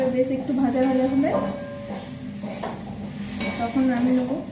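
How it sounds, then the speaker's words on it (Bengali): Ginger-garlic paste and chopped chili fry in a pan while being stirred, with a soft sizzle, scraping and light clinks of a utensil, and a person talking over it. "এগুলো আবার নাড়াচাড়া করতে হবে"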